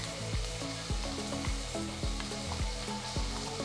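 Ground garlic, ginger and chili paste sizzles among golden-browned onions in a pan, broken by a regular series of spoon or spatula scrapes roughly every half second.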